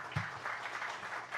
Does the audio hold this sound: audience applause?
yes